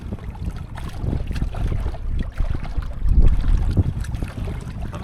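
Gusty wind blows across an open pond, a steady rumbling buffet on the microphone that swells and surges, loudest around the middle, with no voices.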